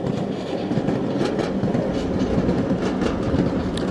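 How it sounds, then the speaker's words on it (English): A train ride rolls along with a loud, continuous rumble of wheels on rails and a steady clickety-clack from close by, with no talking. "just want you to enjoy the nice train ride."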